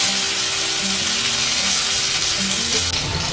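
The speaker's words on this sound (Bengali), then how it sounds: "এখন কড়াইয়ের তেলের মধ্যে দিয়ে দিচ্ছি কিছুটা পরিমাণ লবণ" Salt dropped into hot oil in a wok sizzles as a steady, dense hiss throughout, fairly loud and unbroken, with a faint low hum beneath.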